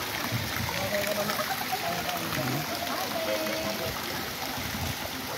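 Water streams steadily into a beach resort area, a continuous close-up rushing and trickling wash that holds at an even level throughout.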